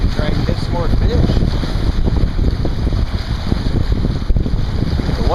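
High wind buffets the microphone on a lake during bass fishing, a loud constant roar and rumble with water lapping underneath and occasional bird calls.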